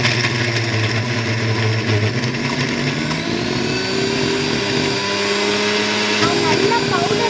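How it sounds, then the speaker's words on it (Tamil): A mixer grinder runs steadily, grinding ingredients into powder with a continuous motor whir and rattling jar, loud and unbroken throughout, with a little faint talk beneath it. "இப்போ நம்ம அரைச்சிக்கணும். வாங்க அரைச்சிக்கலாம்."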